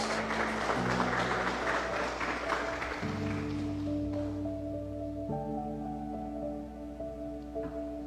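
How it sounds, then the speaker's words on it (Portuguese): Congregation applause during a church service, a broad patter of clapping that fades over several seconds while sustained organ or keyboard chords play underneath. "Você pode aplaudir Jesus?"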